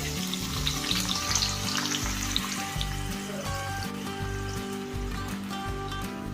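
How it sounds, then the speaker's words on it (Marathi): Cumin seeds and onion sizzle in hot oil in a pan, the tempering for a chicken dum biryani. The frying is close, loud and steady throughout, with tonal background sounds underneath. "त्याच तेलामध्ये मी आता फोडणी टाकून घेत आहे जिरा एक चमच"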